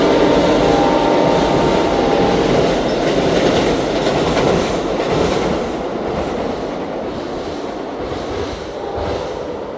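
An Amtrak train crosses a massive CSX single-track steel bridge built in 1913 in Petersburg, Virginia, giving a loud, continuous rumble with rhythmic wheel clatter that eases slightly toward the end.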